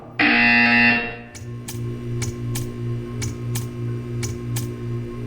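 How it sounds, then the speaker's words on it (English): A loud harsh buzzer blares for about a second in Portal 2, then gives way to a low humming drone with a steady series of sharp ticks. "You will hear a buzzer. When you hear the buzzer, stare at the art."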